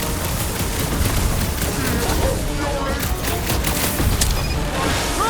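Sustained gunfire from the video game Guardians of the Galaxy on PS5, a dense crackling volley with booms that runs unbroken for the whole stretch, loud and close, mixed with game effects and voices.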